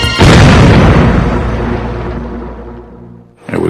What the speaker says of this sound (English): That's just an IED that just went off.